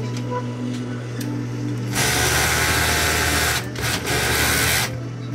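A low mechanical hum shifts into a loud, fast rattling whir of a Siruba overlock sewing machine with a shaking needle clamp holder running noisily, pausing briefly before racing on again.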